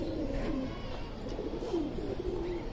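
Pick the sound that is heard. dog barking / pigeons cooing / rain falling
pigeons cooing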